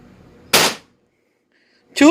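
Launcher firing a Grimburg HP68 0.68-caliber less-lethal shaped projectile through a stock barrel: one sharp, loud, close shot followed by silence, then a voice begins speaking at the end.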